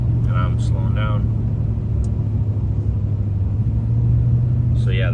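An LBZ Duramax work truck coasts with zero throttle and no braking, giving a steady, loud, low engine and road rumble throughout, with a voice briefly heard near the start and end.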